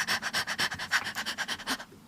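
A person imitates a dog's panting with rapid, rhythmic breathy huffs, about a dozen quick puffs in steady succession, close and fairly loud, fading at the end.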